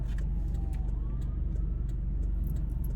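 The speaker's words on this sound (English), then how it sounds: "Oh, there is an ambulance coming." A siren on an approaching ambulance, faint and distant with a rising and falling wail, sits under the steady hum of a car idling nearby.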